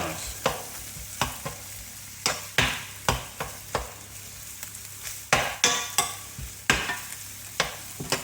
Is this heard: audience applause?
no